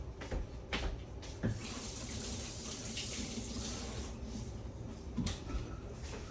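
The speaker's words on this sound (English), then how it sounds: "I had to wash my hands because of that egg." Water from a kitchen tap runs steadily while hands are washed beneath it, with close splashing and a few knocks of the sink as the flow continues.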